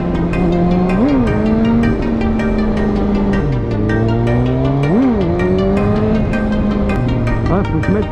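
A Toyota GT86 engine revs hard and close, its pitch climbing and dropping in repeated throttle surges over a steady loud drone, with a hint of tire squeal mixed in.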